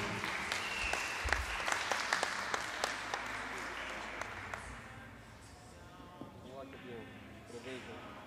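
A small crowd at a Portuguese pool tournament prize-giving claps for the winner, a loose round of hand claps that thins out over several seconds while people talk in the background.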